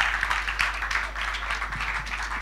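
Steady applause from a live audience after a band's showcase set at a pop venue, dense overlapping claps at even loudness throughout with a low hum underneath and no talking.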